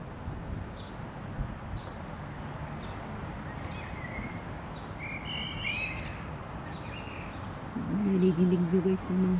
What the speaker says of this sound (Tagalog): Nadidinig nyo guys yung mga huni ng ibon.